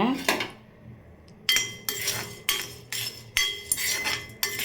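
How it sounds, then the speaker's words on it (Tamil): Roasted gram being dry-roasted in a metal pan, with a series of loud, regular metallic scrapes and clanks of a spoon against the pan, close and alone. "இப்போ வந்து பொட்டு கடலையில் வறுத்து எடுத்துக்கலாம்"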